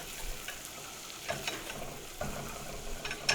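Flour roux being whisked in a hot pan while cooking game day party food, giving a soft continuous sizzle with scraping stirs and a few louder clatters of the whisk against the pan.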